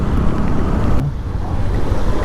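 Riding a motorbike through rain in Hyderabad, a loud, dense roar of wind buffeting the microphone mixed with spray and traffic rumble, continuous throughout.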